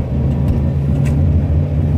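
Steady low engine rumble and road noise inside a moving car, continuous and fairly loud with no talking.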